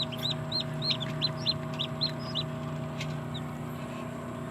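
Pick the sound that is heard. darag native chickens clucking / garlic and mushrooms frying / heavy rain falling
darag native chickens clucking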